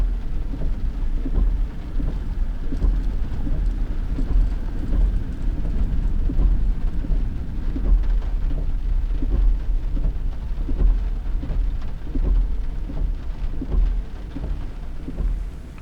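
Steady rain falls across the bush of northern Kruger, near Punda Maria, with low rolling thunder rumbling repeatedly through the downpour, continuous and fairly loud, no voices.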